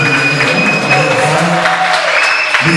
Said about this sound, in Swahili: Tuache mtazamaji kwa makofi sana.